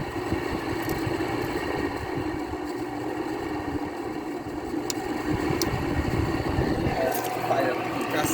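A dusty GE R22 air conditioner runs on its low fan setting, giving a steady, moderate whooshing hum with faint background noise throughout.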